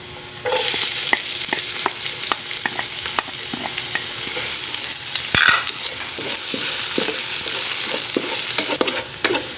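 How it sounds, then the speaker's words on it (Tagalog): Onions sizzle in hot oil for a Filipino mung bean (munggo) dish, a loud, steady frying hiss broken by frequent clicks and scrapes of stirring, with no talking. "Sunod na natin dawan ang sibuyas."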